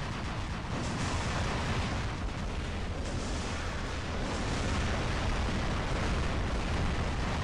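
Aphid rockets firing and exploding in the War Robots video game make a dense, continuous barrage of loud booms and bursts that blur into a steady roar without pause, and no speech is heard.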